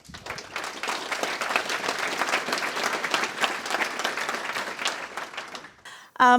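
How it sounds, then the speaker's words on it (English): Sustained applause from a conference audience, many hands clapping densely for several seconds before tapering off, followed by a brief voice at the end. "Can we just get a round of applause for everyone?"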